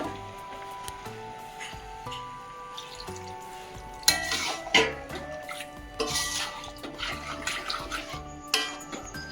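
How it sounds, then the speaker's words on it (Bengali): Hot water is poured into a pan of chilli paneer, a splashing, hissing pour that begins partway through and continues in uneven bursts over a low kitchen background, close and moderately loud. "আমি একটু গরম জলটা একটু এখানে দিয়ে দেবো"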